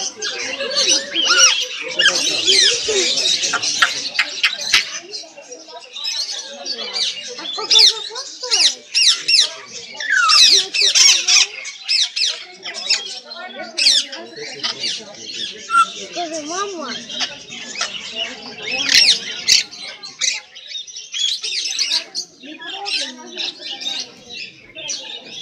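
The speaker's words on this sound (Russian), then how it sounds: "Выбирайте попугайчика" Parrots squawk and screech in a dense, continuous chorus at a bird market in Kyiv, with chirps overlapping the whole time and voices talking underneath.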